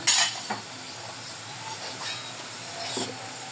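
Dinuguan sizzles softly in a pan with a steady hiss, broken by a few scraping stirs and clinks of a utensil.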